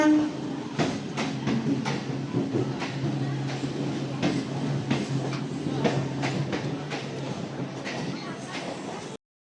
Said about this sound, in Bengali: ট্রেন ঢুকে গেছে, ট্রেনের মাথা দেখা যাচ্ছে ওই যে আসছে